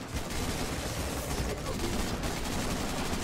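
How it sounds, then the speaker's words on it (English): Gunfire from many players in the multiplayer shooter Guardians of Orion rattles as a dense, continuous barrage of overlapping shots that merges into a steady roar. "Oh, people are shooting everywhere."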